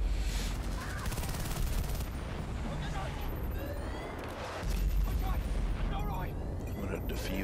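Rapid gunfire and explosions from the Vietnam expansion of Battlefield Bad Company 2, a dense continuous battle din with bursts of automatic fire and booms, loud throughout with a brief dip midway.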